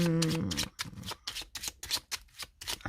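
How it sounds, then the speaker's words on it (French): Tarot cards laid down and covered on a table, a quick run of about eight soft papery slaps and rustles close by, after a brief voice at the start. "on va recouvrir les cartes de blocage"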